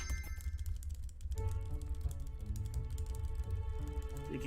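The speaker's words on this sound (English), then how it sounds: "Can you hear my wonderful speedrun clicking?" Rapid computer mouse and keyboard clicking during a game speedrun, a quiet, close, irregular patter of clicks with faint background game sounds and no talking.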